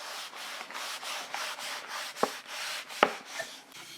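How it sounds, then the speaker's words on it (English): A cloth rubs over a wooden painting board in quick back-and-forth strokes, each a soft, close swish, with two sharper knocks partway through and no voices. "I'm just giving it a quick rub over to get off any excess."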